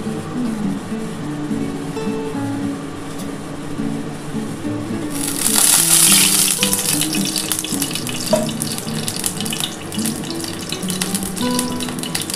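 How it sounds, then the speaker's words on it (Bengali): Oil poured into a hot pan before frying bitter gourd for a Bengali shukto: a broad hiss rises abruptly midway and continues as a steady sizzle over low kitchen background. "এবার এই তেলের মধ্যে অল্প একটু সামান্য তেল দিয়ে দিচ্ছি, কারণ আমার উচ্ছেটা ভাজতে হবে"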